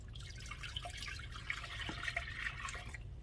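Quiet, steady splashing of 2.5 cups of water pouring into a pot with orange juice, a soft continuous trickle over low background hum.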